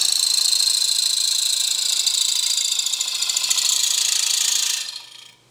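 A super thin parting tool with a 15-inch handle cuts into wood spinning on a lathe, making a loud, steady high-pitched whir. The whir fades out sharply at the end, with no talking.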